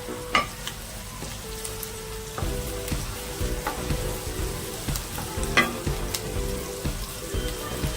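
Onions frying in a pan, a steady close sizzle with spoon scrapes and stirring knocks at irregular moments, with no one speaking.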